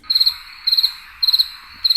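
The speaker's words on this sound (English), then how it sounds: "Crickets." Crickets chirping in quick bursts of several pulses each, repeating steadily about every half second, clear and fairly close against a quiet background.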